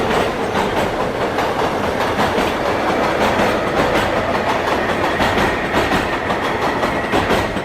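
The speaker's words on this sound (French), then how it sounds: "le métro s'arrête brusquement dans un endroit inconnu" A subway train runs at speed, its rhythmic clickety-clack of wheels over rail joints rolling steadily under a loud, continuous rumble with no voices.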